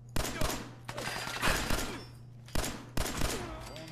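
Gunfire in Fallout 4: a series of separate loud shots and short bursts spread unevenly across a few seconds, over a low steady hum, with no speech.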